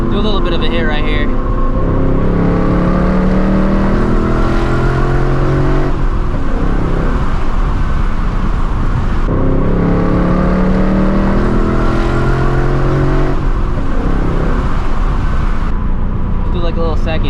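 A 2024 Ford Mustang GT V8 running on E85 revs hard through repeated rising pulls, loud and close, with roaring, popping exhaust throughout.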